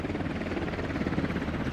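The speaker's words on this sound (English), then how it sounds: "Alright, we got an enemy chopper," An enemy helicopter in the military shooter Squad, its rotor blades thudding in a fast, steady chop over a low engine drone, fairly close and continuous with no speech.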